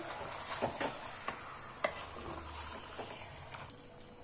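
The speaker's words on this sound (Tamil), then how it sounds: "சிக்கன் சேர்த்தாச்சுங்க. நல்லா கிளறி விட்டுறலாம்." Country chicken being stirred in a biryani pot, soft scraping and light clinks of a spoon against the pot over a faint background hiss, close and quiet with no talking.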